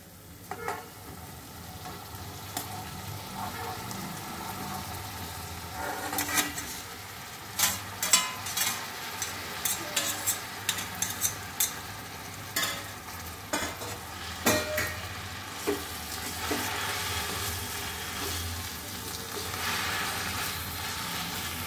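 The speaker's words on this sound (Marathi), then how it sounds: "ते व्यवस्थित हलवून घेऊया। आता आपली तांदूळक्याची भाजी आपण टाकूया।" Amaranth leaves with onion sizzle in a hot pan while a spoon scrapes and stirs in a steady run of clinks, over a constant close frying hiss.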